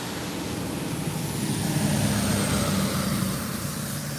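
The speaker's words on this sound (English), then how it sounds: "So big trucks coming up and down the street," Big trucks rumble past on a busy rural main street in New Windsor, Maryland, a loud, steady engine and road roar that swells slightly as they go by.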